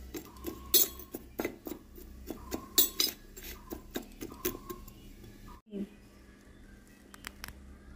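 A spoon mixing salt, turmeric and chili powder in a bowl, giving a steady run of light metallic clinks and taps, quiet and close, with a short pause near the end.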